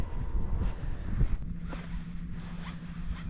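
Wind gusts buffet the microphone over a lagoon while fishing from a boat, a steady rough rumble with faint rustling and a low hum running beneath.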